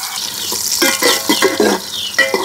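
Chopped onion frying in soybean oil with cinnamon, cardamom and bay leaf in a small pot, a loud close sizzle with quick uneven stirring scrapes and clinks, and no talking.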